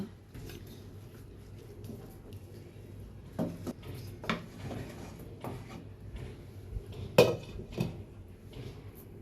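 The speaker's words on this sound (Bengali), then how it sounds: "বিরিয়ানিগুলো খুব সুন্দরভাবে এইভাবে সমান করে দিয়ে ঢাকনা দিয়ে ঢেকে দেব" A lid set on a pot of Dhaka-style beef biryani, with scattered clanks and knocks of metal cookware, one sharper clatter standing out, over quiet background.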